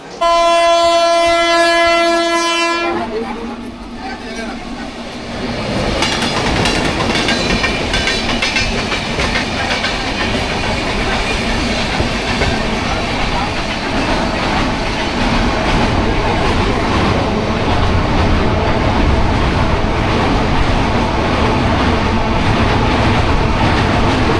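A train travels the line from Santragachi Junction to Mecheda, opening with a long horn blast before settling into a loud, continuous rumble and wheel clatter heard from on board.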